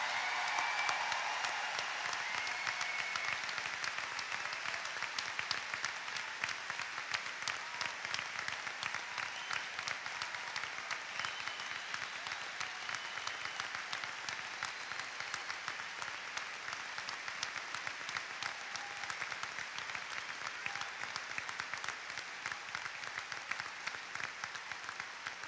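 Sustained applause from a large graduation ceremony crowd honoring students headed to the National Guard, a dense, steady wash of clapping lasting the whole stretch with no speech.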